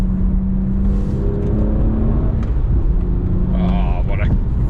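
A BMW 1M engine hums steadily from inside the car while driving on a winding road, a constant low drone with a slight rise in revs, and a person speaks over it.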